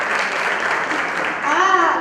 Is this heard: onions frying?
no